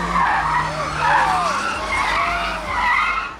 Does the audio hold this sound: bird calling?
no